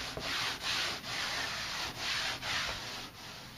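Rhythmic sanding on a wooden door, close up, with repeated back-and-forth scraping strokes, about six or seven passes with short pauses between them.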